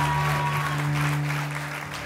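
A church congregation applauding, a short burst of steady clapping over a low sustained hum, slowly fading toward the end.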